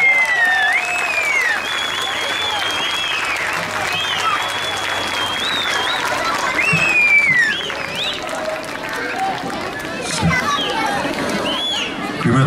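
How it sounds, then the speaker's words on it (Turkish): Loud, sustained applause from a large audience at a Mevlid-i Nebi week celebration in Bozova, with children's voices and whistles rising over the clapping throughout. "Üstada güçlü alkışlar."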